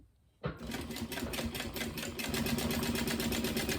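A sewing machine top stitching a crossbody bag starts up abruptly after a brief quiet moment, then runs in a fast, steady mechanical rattle of needle strokes, close and continuous to the end.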